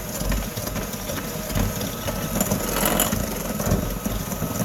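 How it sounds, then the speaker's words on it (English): An electric hand mixer whirs steadily while creaming butter and sugar for maple bacon cookie dough, a close continuous motor drone with slight rhythmic variations as the beaters move. "Sometimes it's just nice to use a hand mixer."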